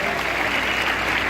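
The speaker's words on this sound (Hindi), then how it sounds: "मैं जोरदार ताली चाहूंगा रविंदर भाई के लिए" Dense audience applause fills a seminar hall at Talkatora Stadium, a continuous wash of many hands clapping through the brief moment.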